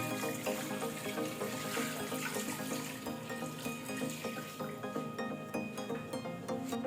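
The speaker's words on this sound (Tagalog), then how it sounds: "Lalagay natin ng tubig." Tap water running steadily into a pressure cooker holding boiled beef ribs, a continuous close splashing flow with no talking.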